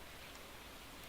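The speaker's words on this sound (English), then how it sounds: "It's raining" Steady soft rain from the video game Stardew Valley, a faint, even hiss of falling drops with no distinct rhythm, continuous and unbroken throughout.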